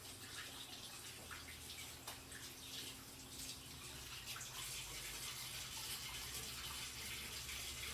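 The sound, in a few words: washing hands under running tap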